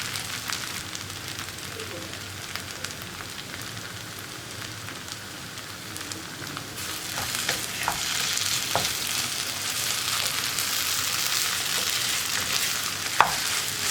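Soya chunks frying in coconut oil on high flame, with a continuous sizzle that grows louder midway, punctuated by spatula scrapes and stirring knocks, close up with no talking.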